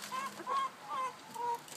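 Chickens cluck softly in short, separate calls while feeding at a gravity feeder on a wire mesh floor, four brief notes close by.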